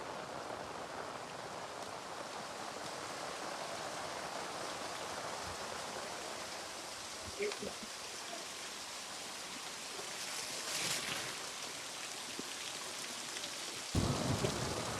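Steady rain pours down in a thunderstorm, a dense continuous hiss with low rumbling thunder and a couple of sharper crashes rising above it near the middle and end.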